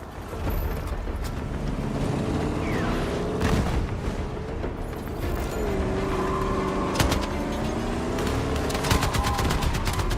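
Rapid machine gun fire in a video game runs as dense, continuous bursts for the whole stretch, loud and close, with sustained tonal layers underneath.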